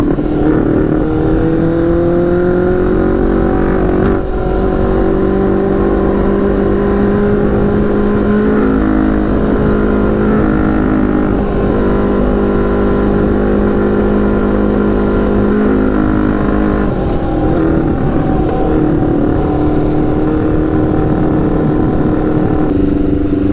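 A custom Yamaha Banshee ATV with a stage 4 jet kit revs loudly and continuously during a ride, its two-stroke engine note climbing and holding through gear changes, close and alone without talk.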